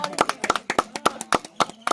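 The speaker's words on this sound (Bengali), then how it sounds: "হাততালি হাততালি হাততালি হাততালি হাততালি" Crowd clapping at a cricket trophy presentation, a rapid run of sharp, close hand claps in uneven bursts with a faint voice chanting beneath.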